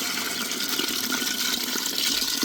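Water pours steadily into a cooking pot in a continuous rushing, splashing stream, close up with no voices.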